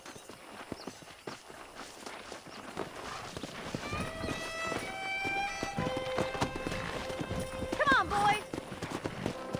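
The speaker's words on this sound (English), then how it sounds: "That ranch hand said there's a pack of wild horses nearby." Wild horses in Red Dead Redemption clop and gallop over open ground in a busy rhythmic patter, with a few whinnies and neighs rising midway, while a voice calls out briefly over the hooves.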